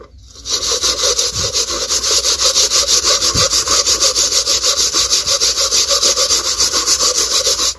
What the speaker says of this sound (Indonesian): Oke kita coba menggosoknya ya di sini dulu